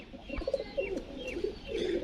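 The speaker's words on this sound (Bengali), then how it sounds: "মালবাই পায়রা, পাঞ্জাবি মালবাই" Punjabi Malbai high-flying pigeons coo softly and repeatedly at close range, with low murmuring calls rising and falling over a quiet background, no talking.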